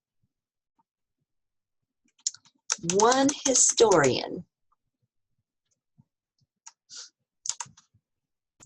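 Typing on a computer keyboard, heard as a few sparse, crisp clicks spaced apart after a short stretch of speech from one person.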